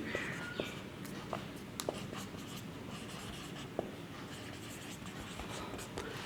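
Pen or chalk writing during a grammar lesson, with continuous scratchy strokes and occasional taps heard up close as a teacher talks over them.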